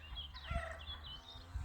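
Chickens, including a Wyandotte hen and a rooster, make soft clucks and warbling calls at close range, with a couple of low thumps.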